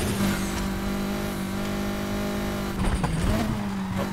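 In Need for Speed Heat, an offroader car's engine roars steadily under nitro boost, then surges and shifts pitch in the final second with rough revving and road noise.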